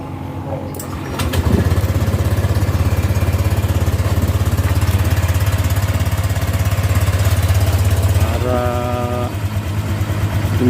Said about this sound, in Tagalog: So pwede nating paanda rin yung motor.